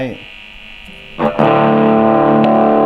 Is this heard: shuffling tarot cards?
no